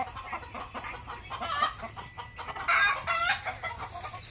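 Several chickens cluck in short, overlapping bursts, with a brief louder squawk partway through, close by.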